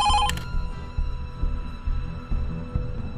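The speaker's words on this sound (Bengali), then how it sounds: "ফোনটা বাজছে, একটু ধরো না।" A telephone bell rings in a short burst at the start, then gives way to a low, rhythmic pulsing background for the rest.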